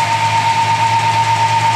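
Clausing milling machine running under power feed, a steady close, loud motor hum with an even mechanical drone and faint vibration, no voices.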